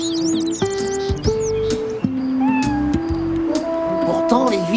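A cat meows repeatedly in a series of drawn-out, tonal cries, some sliding up and down, with bird-like chirps in the background and a voice talking over parts of it.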